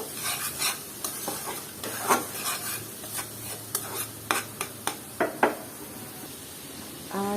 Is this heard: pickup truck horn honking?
no